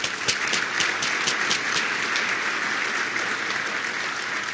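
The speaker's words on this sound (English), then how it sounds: "So a big round of applause for Engine Yard." A conference audience at RailsConf applauds sponsor Engine Yard, dense and even clapping heard alone throughout, with a few sharper individual claps standing out near the start.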